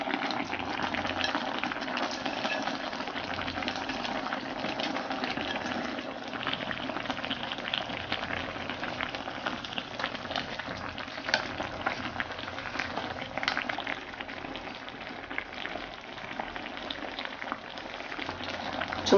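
Mackerel kimchi stew with peppers and green onion simmers in a pot over medium heat, a steady, dense bubbling and boiling that continues quietly on its own with no voices.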